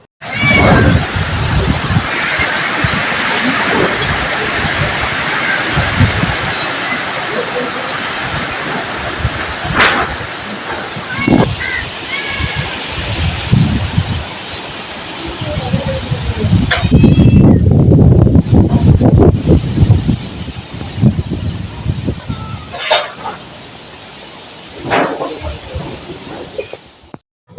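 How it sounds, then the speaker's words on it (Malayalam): Strong wind blows outdoors as a continuous roaring rush. It swells into heavier, louder gusts partway through, then eases, and a brief voice speaks at one point. "ഇപ്പോൾ ഇവിടുത്തെ കാറ്റിൻ്റെ എഫക്റ്റ് എത്രത്തോളം ഉണ്ടെന്നുള്ളത് ഞാൻ വീഡിയോ എടുത്ത് കാണിച്ചു തരാം"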